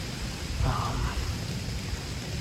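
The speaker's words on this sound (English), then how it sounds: "I'm sure you can hear it, but it's raining." Rain falling around a hunting tree stand, a steady, hissing wash of noise with a low rumbling undertone, faint and continuous throughout without any voices.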